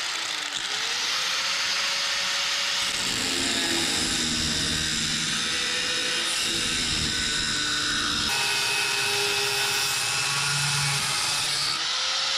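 A power cutting tool grinds and whines steadily through rusted sheet-metal bodywork on a 1959 Dodge Coronet, loud and continuous, its pitch shifting as the blade bites in and eases off.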